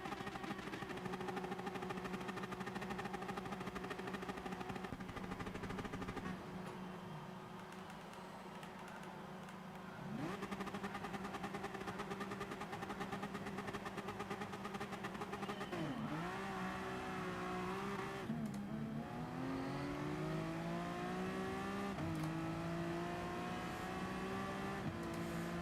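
A Lamborghini race car's engine in Gran Turismo Sport drones steadily at high revs with pitch shifts through gear changes, a short drop in level, then climbs again, running alone without talk.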